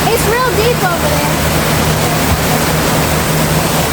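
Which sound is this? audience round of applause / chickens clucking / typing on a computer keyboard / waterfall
waterfall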